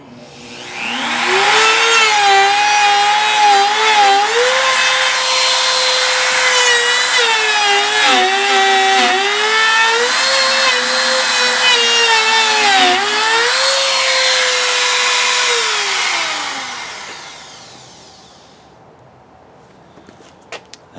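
A Bauer 19121E compact router with a 3/4 inch bit cuts into walnut wood, giving a loud, continuous whining roar. The pitch wavers as the bit bites in, then the motor spins down and fades to quiet.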